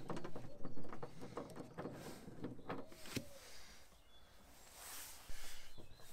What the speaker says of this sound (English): So I've got a 10mm socket on the end of a ratchet there.